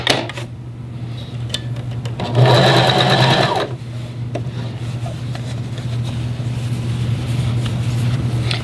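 Sewing machine stitching binding onto knit fabric, a short loud whirring run of needle strokes that stops, followed by quieter handling clicks and a steady background hum.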